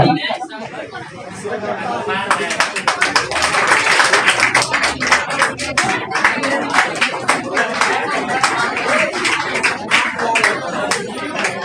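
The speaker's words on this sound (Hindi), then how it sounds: "आप सब ताली बजा के सम्मानित करें" An audience at a Teachers' Day ceremony honouring teachers claps steadily and loudly for several seconds, mixed with crowd chatter and a speaking voice.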